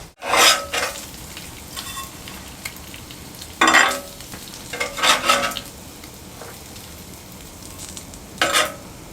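A bread roll toasts in bacon grease on a Blackstone 22-inch griddle, giving several short bursts of scraping sizzle that flare and fade between quieter stretches, close and fairly loud with no talking.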